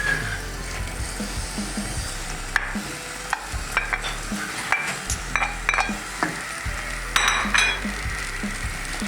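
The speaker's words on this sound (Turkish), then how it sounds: "Yavaş yavaş karıştıralım." Cheese stirred into syrupy semolina helva in a pan over low heat, giving a soft sizzle and wet stirring with scattered clinks of the utensil against the pan, close and steady, no talking.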